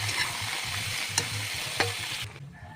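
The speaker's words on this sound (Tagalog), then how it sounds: "Ginisa ko lang ito sa bawang at saka sibuyas." Sponge gourd (patola) sautéing with garlic and onion in a hot pan, a loud steady sizzle broken by a couple of sharp clinks of the stirring utensil, close up with no talking.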